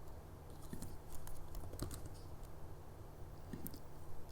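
Sparse clicks of typing on a computer keyboard, set up on a Mac: a few quick, light keystrokes in short bursts over a steady background hiss, with no talking.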